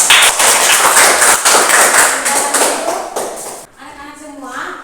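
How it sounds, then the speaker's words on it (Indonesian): A classroom of students claps together in a dense, loud burst of applause that lasts several seconds before tapering off, after which a voice begins speaking briefly at the end. "Tepuk tangan dulu."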